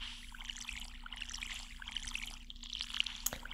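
Watering crops with a watering can in the Stardew Valley farming game: a soft, steady trickling pour runs throughout at moderate level, with a brief sharp tick near the end.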